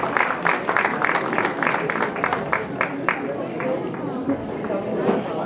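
An audience at an accordion concert claps in a rhythmic burst that fades after about three seconds, while people talk underneath and carry on talking as the applause dies away.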